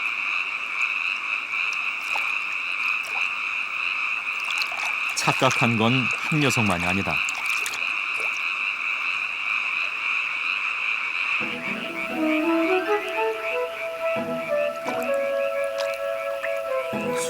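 Fire-bellied toads and a black-spotted pond frog croak together in a dense, steady nighttime chorus with rapid pulsing calls throughout, while someone narrates over it.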